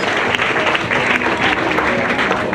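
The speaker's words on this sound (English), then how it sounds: "I just want to give a huge round of applause to all the women here in attendance today" An audience claps for women in attendance at an event in Sierra Leone about fighting rape and gender violence, dense continuous applause at a fairly loud level throughout.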